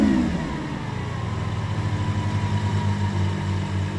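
Lamborghini Sián FKP 37 V12 hybrid engine starting with a brief rising whine, then settling into a steady, loud, throbbing idle with deep pulsing rumble, heard alone.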